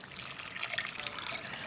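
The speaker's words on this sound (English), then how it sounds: "with 1 1/4 cups of whole blanched almonds and 1 cinnamon stick and 2 1/2 cups of hot tap water" Hot tap water pours over whole blanched almonds and a cinnamon stick in a bowl, a soft, steady splashing trickle at close range with no talking.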